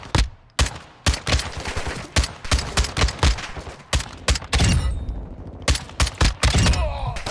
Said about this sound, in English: Is someone else shooting? Yeah, me.